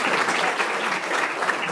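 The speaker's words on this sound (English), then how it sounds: "Let's give him a round of applause." An audience applauds a speaker at a City Club event, with dense, steady clapping from many hands filling the room for a couple of seconds.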